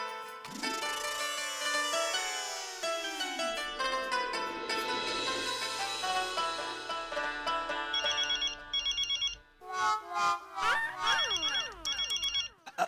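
A mobile phone ringtone plays from inside a trouser pocket in a home, a bright melodic tune with rising and falling notes that repeats in bursts, clear and fairly close.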